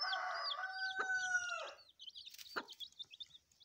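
A desi hen near her chicks lets out a long, drawn-out call, followed by a brief squawk and scattered high cheeps from the chicks nearby, with no talking.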